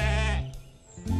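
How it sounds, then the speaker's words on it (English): A sheep bleats loudly and close by in one long wavering call, followed after a short pause by the start of a second bleat. "only a sheep"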